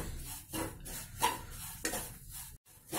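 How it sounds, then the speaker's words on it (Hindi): Moong dal fries in a pan with a soft sizzle while a spoon scrapes and stirs it in repeated strokes, close and clear, ending in a brief silent gap. "इसको और थोड़ी देर फ्राई करेंगे।"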